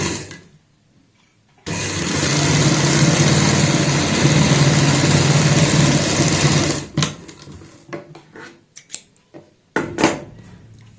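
Sewing machine running steadily for about five seconds while stitching the folded hem edge of fabric for a palazzo bottom, followed by short bursts, clicks and handling noises.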